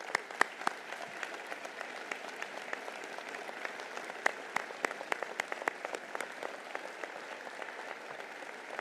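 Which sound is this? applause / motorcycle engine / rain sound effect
applause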